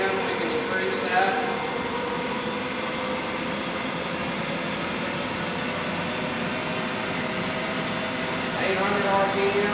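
A 1997 Ecoca lathe spindle runs at 590 RPM, giving a steady, continuous machine whine with a high tonal hum and broadband noise, loud and unbroken throughout, with faint background clatter.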